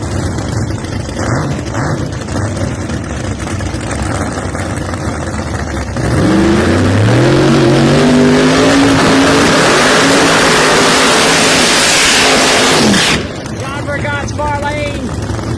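A Pro Nitrous drag race car from Wolf Motorsports revs loudly at the drag strip, its engine climbing in pitch over several seconds before cutting off sharply, with crowd and track noise around it.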